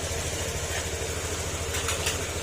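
A motorcycle engine idles as it warms up after repair work, a low, even putter with a steady pulse and a little mechanical ticking, close and alone.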